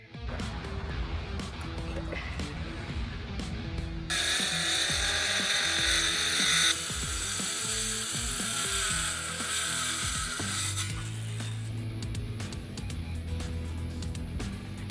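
A power drill whines steadily, rising to a louder, high-pitched grinding for several seconds as it bores holes through an aluminum boat's transom, then settling back to a lower hum.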